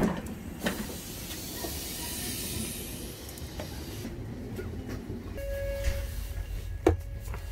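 A passenger train carries a traveller, with a steady low rumble and airy hiss heard from inside. Faint rhythmic clatter, a few sharp clicks and a brief tonal hum come in near the end.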